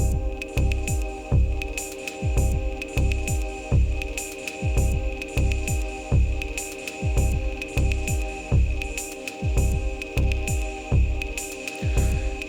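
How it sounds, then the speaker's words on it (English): Rhythmic electronic drum loop run through an Eventide Space reverb pedal hardwired to a DJ mixer, with regular punchy hits trailed by washy reverb tails and sustained tonal layers, no talking. "So let's hear, I have here my reverb."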